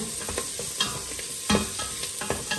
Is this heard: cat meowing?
no